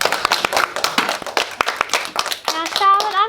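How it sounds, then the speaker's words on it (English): Audience at a primary school honours program claps for a student, a scattered burst of individual hand claps at an uneven rhythm, then a voice speaks as the clapping fades. "Let's give her a clap."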